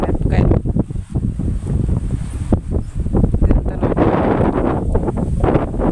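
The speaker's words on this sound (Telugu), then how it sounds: "గాలి ఓ అని పెడుతుంది" Strong wind gusts roar across an open farm field being prepared for chilli planting, buffeting the microphone with loud, uneven rushes; a voice talks briefly amid the blowing.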